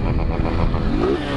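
Honda Fan 160 motorcycle engine revving hard near its limit, a loud close buzzing drone with a rising pitch sweep before easing off.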